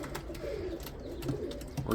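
Black Widow racing pigeons coo softly in a loft, low murmuring calls close by with someone talking over them.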